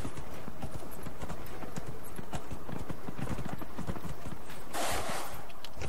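A horse gallops across terrain in the video game Dragon Age Inquisition, its hooves pounding in a fast, steady rhythm that is loud and close throughout, with a brief whooshing burst near the end.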